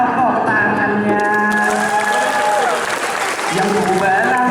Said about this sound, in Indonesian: Supaya lebih meriah tepuk tangan sama-sama.